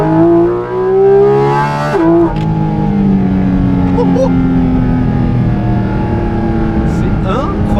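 Cabin view of a Porsche GT4 RS road car with its 500-horsepower engine revving loudly, harmonic engine tones rising and shifting under a constant roar, then settling into a sustained drone.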